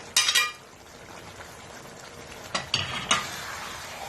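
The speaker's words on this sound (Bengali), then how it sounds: "এবার একটুখানি নাড়িয়ে দিচ্ছি" Spatula stirring bottle gourd greens and eggplant frying in a pan over high gas flame, a few quick scraping bursts over a soft steady sizzle.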